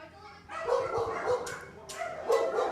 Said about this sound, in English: There's some bigger dogs down this way as well.